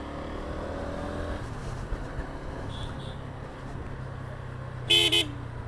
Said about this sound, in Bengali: হর্নে ভালোই জোর আছে।